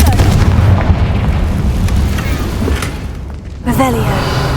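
Confringo spell blasts fired in the Hogwarts Legacy video game, a loud rumbling boom that fills most of the span, then a sharper burst near the end with ringing tonal trails, over a constant game backdrop.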